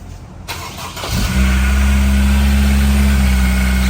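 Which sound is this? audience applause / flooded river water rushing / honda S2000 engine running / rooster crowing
honda S2000 engine running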